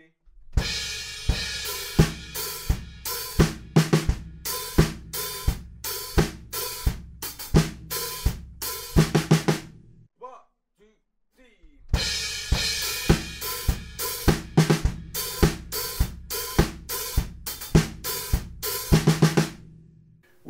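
A drum kit comes back in on a song, a steady groove of punchy kick and snare hits with cymbals, broken by a brief near-silent gap before the beat resumes just as loud.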